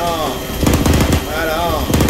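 Machine-gun suppressing fire in the military shooter ArmA comes as two short, rapid bursts, mixed with a player's voice over the game audio.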